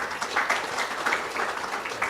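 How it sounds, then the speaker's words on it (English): An audience at a corporate chat session about cancer gives a short burst of steady applause, moderately loud and even, with no talk over it. "That deserves a big round of applause,"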